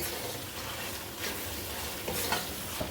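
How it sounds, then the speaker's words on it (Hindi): Mutton liver masala with fresh coriander stirred in a pan, a steady soft scraping and sizzle continuing throughout with a few slightly louder strokes near the end, no voices. "अच्छे से इसे हम मिक्स करेंगे।"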